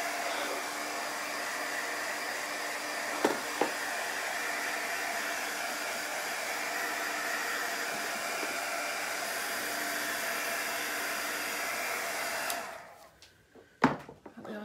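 A hair dryer blows steadily on wet paint over a chalk craft stencil project, a constant close whooshing hum that cuts off near the end, followed by a couple of faint clicks and knocks.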